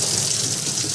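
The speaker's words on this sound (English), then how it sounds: "we get that spraying and we get the suction" Python aquarium clean-and-fill system running, a steady broadband rush of spraying water and suction, loud and close with no break, like water gushing through a hose and tap.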